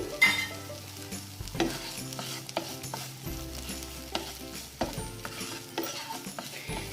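Food fries in a pan with a soft, continuous sizzle, punctuated by repeated clinks and scrapes of a spatula stirring it up close.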